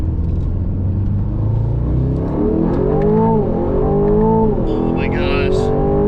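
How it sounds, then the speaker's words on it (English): The twin-turbo V8 of an Aston Martin Vantage S Roadster rumbles loudly from inside the car, then climbs and falls in pitch as it revs under acceleration. A voice talks over the engine noise. "that sound from that twin-turbo V8 is just phenomenal, especially with those pops and cracks you get higher in the rev range"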